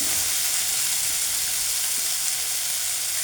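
Cloves, green chili and black pepper sizzle steadily in hot oil in a pan while radish curry is made, a loud, continuous hiss and crackle with no talk.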